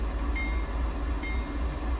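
A CSX freight train rumbles steadily on the Sand Patch route in Train Sim World 2, a continuous low mechanical drone with faint higher whines, heard alone without talk.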